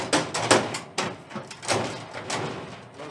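A metal filing cabinet drawer scrapes and rattles as it slides out, with several short clunks and grinding pulls in quick succession.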